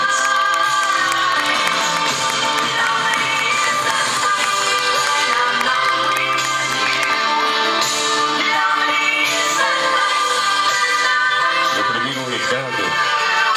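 A crowd of family and friends claps and cheers steadily for Neide at her surprise birthday celebration, with music and scattered voices mixed in.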